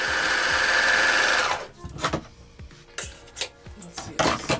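A sewing machine stitches a simple fabric top in a steady, loud mechanical whir for about a second and a half, then stops, leaving scattered clicks and handling noises of fabric and tools close by.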